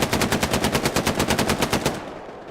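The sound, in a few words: machine gun fire in the video game Hell Let Loose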